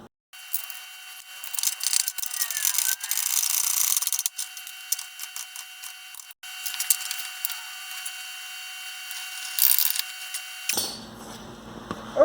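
A ratchet clicks rapidly and steadily while tightening a bolt on the steering box of a Jeep XJ Cherokee, close and fairly loud, in bursts with short pauses, ending in a duller knock, with no speech.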